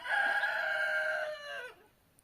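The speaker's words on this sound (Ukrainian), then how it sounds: "Мої півні допомагають мені розказувати." A single rooster crows once, a loud drawn-out call lasting over a second and a half, then fades into quiet.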